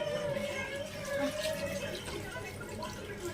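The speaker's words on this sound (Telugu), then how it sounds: "ఇది చింతపండు పిసికి పెట్టుకున్న పులుసు అండి. ఇలా పోసుకుంటే" Tamarind pulp gravy poured into a pot, a soft continuous liquid splash and trickle, faint and close, with low background hum.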